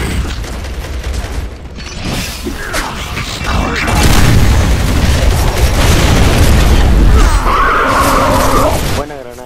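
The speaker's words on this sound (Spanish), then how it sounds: "Buena granada." A grenade explodes in an online shooter video game, a loud, rumbling blast that swells and holds for several seconds amid gunfire-like crackle, with players' voices heard around it.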